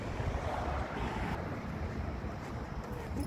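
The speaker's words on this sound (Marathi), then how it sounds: "छान हवा चालू." A steady breeze blows through a home garden at night, a broad, even rush of wind buffeting the microphone with no talking.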